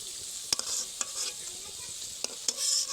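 Shrimp and lentil fritters fry in hot oil with a steady, faint sizzle, punctuated by several sharp clicks of a utensil stirring and turning them in the pan.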